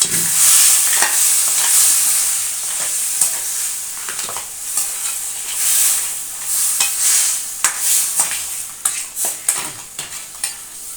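Steady loud sizzling of crab roasting with onions and pepper powder in a pan, with repeated scraping and clinking as it is stirred, no voices.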